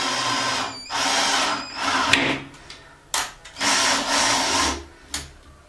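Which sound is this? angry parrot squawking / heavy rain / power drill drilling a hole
power drill drilling a hole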